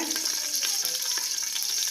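Milma ghee melting in a pan, giving a continuous dense sizzling and spitting close by, with faint stirring scrapes and no speech.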